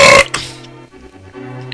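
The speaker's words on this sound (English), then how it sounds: "I just burped" A single loud, throaty burp at the very start, short and close, fading into quiet low tones of background game music.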